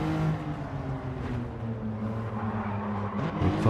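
Race car engine in a racing video game, a steady close whining drone with shifting pitch and a brief rev near the end.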